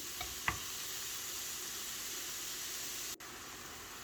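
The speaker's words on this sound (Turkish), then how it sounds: "yüksek ateşte şöyle hızlıca kavuruyorum arkadaşlar" Mushrooms sautéed quickly over high heat in a pan for a creamless vegetable mushroom soup, giving a steady, close hiss of sizzling with a brief stir-like clatter near the start and a short dip near the end.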